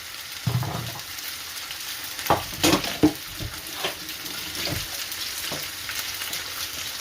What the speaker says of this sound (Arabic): Aquí mira, está mezclando con este guiso de pechuga de pollo.